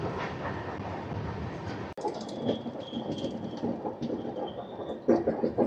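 The Rayalaseema Superfast Express rolls along the track from inside the train, a moderate rumble with rhythmic rattling and clatter, a sharp jolt partway through and a louder surge near the end.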